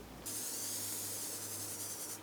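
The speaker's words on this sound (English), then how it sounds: "I am going to just spritz my face one last time with my Beauty Bakery Sweet Grace setting spray" A single sustained misting spritz of Beauty Bakery Sweet Grace setting spray onto a face, close and steady hiss for about two seconds, ending with a brief click.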